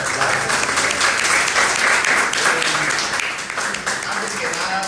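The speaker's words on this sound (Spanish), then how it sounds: "pido un fuerte aplauso" Audience applause for the president of the Valladolid chess club at the announcement of a chess tournament, a dense, steady burst of many hands clapping that carries through and tapers slightly near the end.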